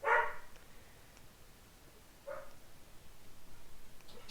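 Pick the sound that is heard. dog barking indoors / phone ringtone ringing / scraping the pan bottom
dog barking indoors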